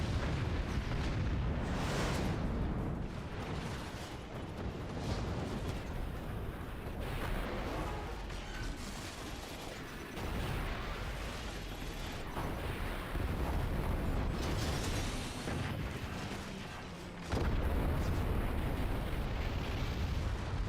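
Howitzer barrages and explosions in a video game, dense rolling booms and blasts overlapping almost without pause, staying loud and continuous throughout.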